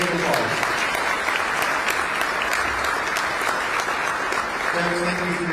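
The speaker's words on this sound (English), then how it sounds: "Judge, yes, give applause." Steady, loud applause fills a county government address honoring keynote speaker Bexar County Judge Peter Sakai, a dense wash of clapping that holds throughout with a hint of voices near the end.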